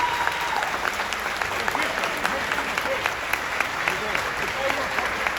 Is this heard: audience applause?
yes